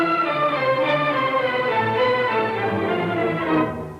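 An orchestra plays a Brahms symphony theme in a minor key. Sustained, full-bodied strings and winds hold rich harmonies for the whole stretch, then fade at the end, with no talk.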